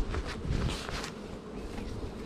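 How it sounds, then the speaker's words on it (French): Honey bees buzz around a bee escape fitted on a hive's honey super. The buzzing is close and continuous, with a few louder passes of single bees and no talk. "Les abeilles rentrent par là"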